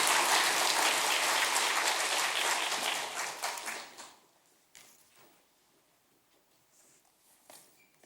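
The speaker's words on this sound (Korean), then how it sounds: "떨지 말고 잘 하시라고 박수 한번 하시겠습니다" A church congregation applauds during a Sunday service, a dense, loud wash of clapping for about four seconds that then stops abruptly, leaving a quiet room with a few scattered claps and small sounds.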